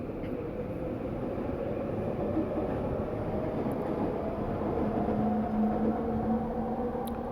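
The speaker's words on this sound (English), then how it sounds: "Sorry, trains again." A train rumbles steadily nearby, a dense low roar holding throughout with a faint tonal whine rising partway through; no voices.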